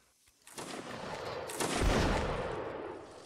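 Musket volley gunfire from a Napoleonic Wars line battle in Mount and Blade Warband: a dense, rolling fusillade of many overlapping shots that swells to a loud peak and sustains, with no talk over it.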